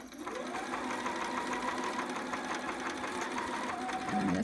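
A sewing machine runs a steady line of stitching on a sitter romper, back stitching then forward stitching in one continuous, moderately quiet whir, with a slight change near the end.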